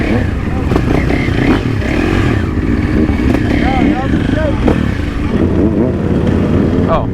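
Supermoto motorcycle engine revving hard in a city, rising and falling through clutch pulls and gear changes, loud and close, with talk over it throughout.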